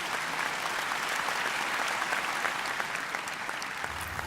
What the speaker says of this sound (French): donnons chaleureusement une bonne main d'applaudissement aux entraîneurs du Collège Esther Blondin